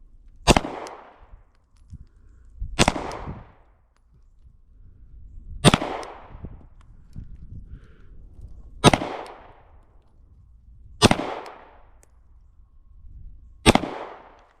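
Six sharp, loud pistol shots from a Glock 48 MOS at a shooting range ring out one at a time, a second or more apart, each with a short decaying echo and quiet gaps between.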